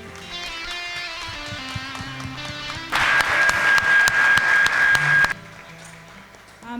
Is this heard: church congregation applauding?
yes